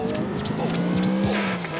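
A car driving in Grand Theft Auto 4, its engine droning loudly while the tires squeal repeatedly in short swooping chirps as it turns, with a voice talking over the game sound.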